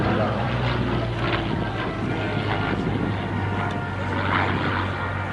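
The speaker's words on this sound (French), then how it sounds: "Le moteur du P40 fait un son particulier parce que c'est un moteur américain" The V-engine of a Curtiss P-40 propeller aircraft drones steadily nearby at the Melun Villaroche air show, a rough low rumble mixed with wind noise across the microphone.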